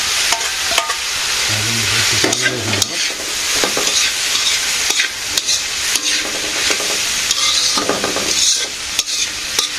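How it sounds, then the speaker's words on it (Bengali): Fish and eggplant slices frying in a pan, a loud, dense, continuous sizzle with spatula scrapes and stirring clatter throughout. "এখন মাছ ভাজি আর এই যে বেগুন ভাজিগুলো দিয়ে দিই"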